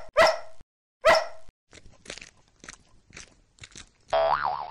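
Two loud, sharp barks from a cartoon dog, each alone and evenly spaced, followed by a scatter of softer clicks and thumps and then a short burst of wobbly musical tone.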